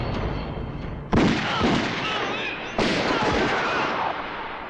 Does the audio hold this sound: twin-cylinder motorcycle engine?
no